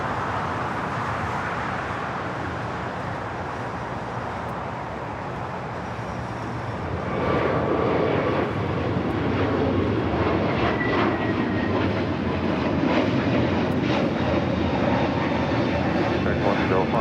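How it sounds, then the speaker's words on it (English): A Frontier Airbus A321neo in Hugh the Manatee livery takes off from LAX, engine roar swelling sharply midway and holding loud and broadband to the end. "That was Frontier 4316, Hugh the Manatee livery, taking off to Atlanta on the A321neo"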